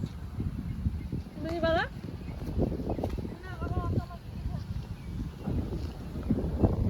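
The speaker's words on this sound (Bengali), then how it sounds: "হাওয়া তো চলছে না, তুফান চলছে, মনে হচ্ছে তুফান।" Strong, storm-like wind buffets the microphone at a highway toll plaza, a loud, rumbling gusty roar under people talking, with a few high whistling tones.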